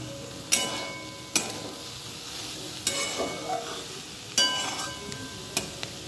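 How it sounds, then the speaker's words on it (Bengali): Minced chicken keema being stirred and fried in a pan for ghugni: a steady sizzle, broken by several sharp spatula scrapes and clacks against the pan at irregular intervals, close and without speech. "সরি চিকেন কিমা কষা।"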